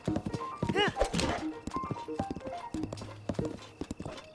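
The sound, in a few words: horse hooves clip-clopping in a video game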